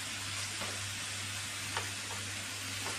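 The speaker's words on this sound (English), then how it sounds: "Now again, keep stirring all the time. Don't ever let anything burn." Moussaka filling fries in a pan and is stirred constantly, giving a steady close sizzle over a low hum with occasional soft scraping strokes, no voices.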